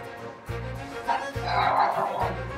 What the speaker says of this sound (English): And my dogs are barking.